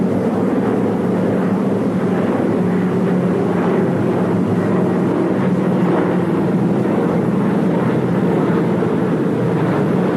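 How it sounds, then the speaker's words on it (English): Droning engines of American bombers and transport aircraft flying a parachute supply drop to a Chinese garrison, a steady, loud, unbroken roar that holds for the whole stretch with no voices. "American bombers and transports dropped supplies to the Chinese garrison by parachute."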